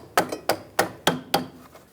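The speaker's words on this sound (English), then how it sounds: "Just take a little hammer and tap it on." A small hammer taps a brake caliper clip into place on a rear caliper of a 2001–2006 BMW 325Xi. Five sharp metallic knocks come at an even pace, close and distinct.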